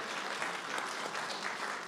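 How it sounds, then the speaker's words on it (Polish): Brief burst of dense audience applause in a conference hall during a Polish education conference, even and sustained throughout. "brawa."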